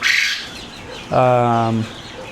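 At a chicken auction, a chicken gives one clear clucking call in the middle, fairly close, with faint background noise and a brief higher sound at the start.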